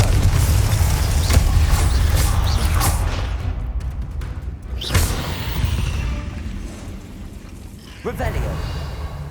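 Confringo spell blast in the video game Hogwarts Legacy, loud booming fiery bursts with a heavy low rumble, a sharp crack near the middle and another blast toward the end, amid dense combat noise.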